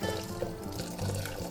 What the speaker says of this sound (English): I just pour it through the sieve